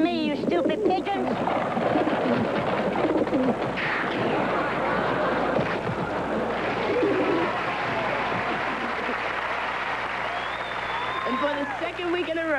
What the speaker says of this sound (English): Get away from me, you stupid pigeons.